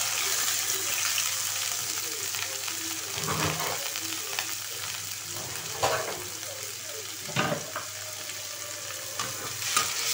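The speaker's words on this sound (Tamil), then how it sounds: "எண்ணெய் லைட்டாக காஞ்சிச்சு ஒரு துண்டு பட்டை ரெண்டு ஏலக்காய் நாலு லவங்கம் போட்டுட்டு உடனே ஒரு ரெண்டு மீடியம் சைஸ் வெங்காயம் போட்டுக்கோங்க" Sliced onions with cinnamon, cardamom and cloves sizzle and fry in hot oil, a constant close hiss with occasional scraping stirs of a spoon in the pan, no voices.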